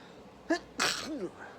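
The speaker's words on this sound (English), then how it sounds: "Gotta sneeze." A man's sneeze indoors: a quick intake of breath, then one sharp, loud burst, trailing into a brief voiced sound afterward.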